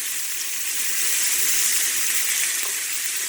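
Food sizzles on a hot grill, a loud, continuous hiss with a faint crackle, close up and steady from start to finish with no talking.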